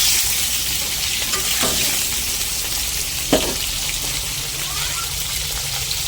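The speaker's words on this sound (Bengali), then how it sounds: "ঝাল করবো বলে বেগুনটা কড়াই দিয়ে নেড়ে নিচ্ছি।" Eggplant frying in a wok, giving a steady close hiss of oil with a couple of brief scraping stirs.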